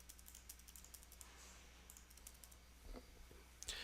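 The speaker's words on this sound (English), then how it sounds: "hit enter a bunch of times as you click through your tabs" Faint computer keyboard typing during a GNS3 network lab session, rapid light key clicks in irregular bursts from the Enter key pressed repeatedly, quiet and close, with no voice.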